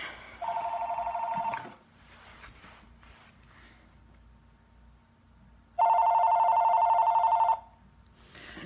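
A telephone rings indoors in two long electronic bursts separated by a few seconds of quiet. It is clear and fairly close, with no talking in between.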